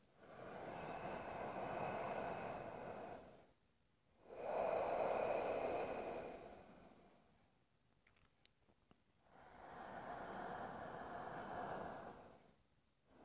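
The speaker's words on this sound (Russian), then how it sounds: "Ощущаем, как воздух проходит через горло." Three slow ujjayi breaths during Ashtanga yoga, air hissing through a narrowed throat in long, even swells of a few seconds each, separated by short quiet pauses, close and soft.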